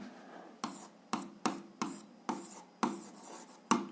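A pen writes an algebra solution on paper in a series of about eight distinct scratchy strokes, close and fairly quiet, spaced irregularly with short pauses between them.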